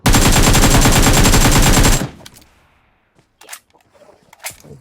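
Rapid automatic gunfire in the video game PUBG blasts loud and continuous for about two seconds, then stops, followed by a few faint clicks and scattered quieter noises.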